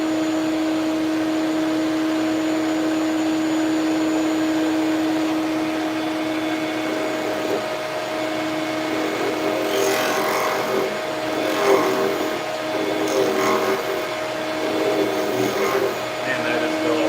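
A wood lathe turns down the bottom of a pill bottle blank: a steady motor hum with a tonal whine, then bursts of cutting and scraping as the tool bites, close and mid-level, with a voice heard at times.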